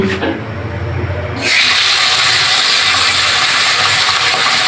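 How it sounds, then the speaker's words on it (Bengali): Koi fish hitting hot oil in a wok for frying: a sudden loud, steady hissing sizzle bursts in after a quieter start and holds strong to the end. "কড়াইতে তেল দিয়ে দিয়েছি এবার মাছটা দিয়ে দিচ্ছি"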